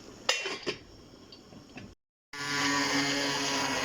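A metal lid goes onto a pot of lentil soup on the stove with two sharp clinks and a few softer taps, then a brief pause before a steady hiss of cooking begins.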